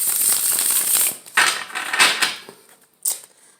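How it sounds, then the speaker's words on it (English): A deck of tarot cards being shuffled by hand, with crisp riffling bursts at the start and then several short separate shuffles and taps, close and fairly quiet. "I'm going to get another shuffle in here."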